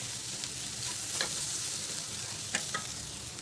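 Soft continuous sizzling of spices and kasuri methi frying in a pan, with a few quiet scraping strokes as they are stirred.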